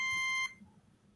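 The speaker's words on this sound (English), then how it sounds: "I just heard a beep." A single electronic beep sounds as a steady, bright tone for about half a second, then cuts off to near silence, heard during an interview.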